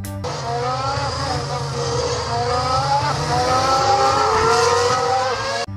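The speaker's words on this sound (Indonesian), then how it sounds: "ada mobil balap Formula One warna merah kombinasi silver" A red and silver Formula One race car roars close by, its engine revving loud and continuous with rising and falling pitch for several seconds before cutting off abruptly.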